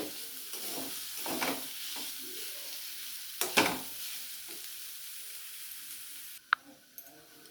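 Banana flower mixture stirred and fried in a pan, a steady close sizzle with scraping strokes of a spoon scattered through, a few louder clatters near the middle, and a sharp tap near the end.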